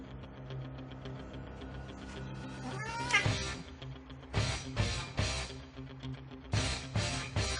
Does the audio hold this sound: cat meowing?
yes